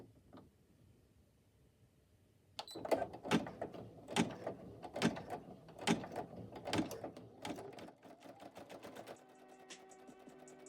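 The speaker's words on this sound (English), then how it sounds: "place the hoop back on the embroidery machine in slots 3 and 4 so that the tack down and the satin border for the second half of the M and A can stitch" An embroidery machine stitches a satin border on a sweatshirt appliqué: a steady, quiet mechanical clatter of repeated needle strikes starts after a short silence and runs for several seconds, then settles into a softer hum.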